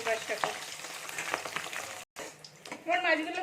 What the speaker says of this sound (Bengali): এবার এটাকেও আমি লাল লাল করে ভেজে নেবো